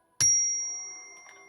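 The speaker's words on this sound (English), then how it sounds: "I'm going to ring this bell in 3" A single bell is struck once, a sharp ringing onset that lingers and slowly decays over more than a second, clear and alone in a quiet room.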